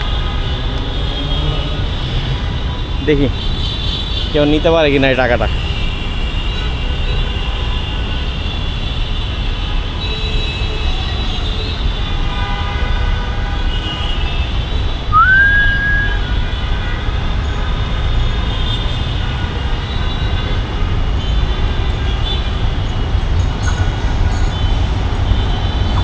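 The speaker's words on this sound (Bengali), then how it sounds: "একতা এক্সপ্রেস আসতেছে, ওরে বাপরে ব্রড গেজ, তাহলে মনে হয় কেউ নিবে না, এত বড় ট্রেন এটা।" An Ekota Express broad gauge train approaches with a steady, loud rumble of rail wheels and engine noise throughout, a brief rising whistle tone partway through, and a short burst of speech early on.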